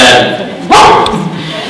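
A rescue service dog barks once, sharp and close, cutting through background talk and room noise.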